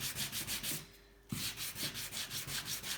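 Sandpaper of 240 grit rubs back and forth over a joint on a bicycle frame, rhythmic close scratchy strokes with a brief pause partway through.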